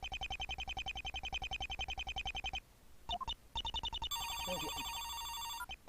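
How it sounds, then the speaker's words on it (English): A phone in an Ace Attorney game rings in a rapid, steady series of electronic pulses that break off and then resume with a brighter, higher tone, and someone says a single word. "Whenever I start saying a line, the phone rings in this game."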